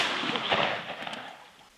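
A single gunshot fired in a period drama setting, one sharp close blast that fades out over about two seconds, heard alone with no talk over it.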